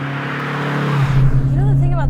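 A 1983 Renault R5 Turbo 2, a mid-engine car fitted with the standard street-ratio steering box, drones steadily at close range, its engine note swelling and rising in pitch toward the end.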